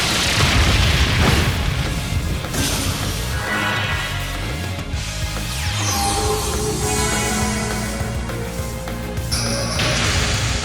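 Brionac cannon firing in Trails of Cold Steel III: a loud, dense booming blast with layered crashes and bursts over game music, sustained for several seconds and ending with a sharp bright hit.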